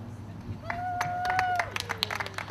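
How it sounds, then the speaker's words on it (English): Scattered clapping greets F3 Cup racing drivers on the podium at the Silverstone National circuit, with a few sharp, distinct claps over a faint background hum and a voice-like tone. "Drivers getting the round of applause and celebrations on the podium and leaving Silverstone"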